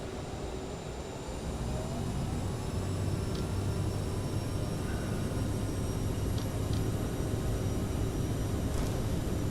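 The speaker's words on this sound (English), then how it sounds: "Throttle up. Parking brake off." A simulated aircraft engine in Microsoft Flight Simulator 2024 holds max power on the takeoff roll, a steady, loud, unbroken roar with a constant hum underneath.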